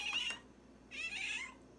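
A cat meows for tuna, two close high-pitched calls with a short pause between, the second longer and drawn out, fairly faint with no talk over them.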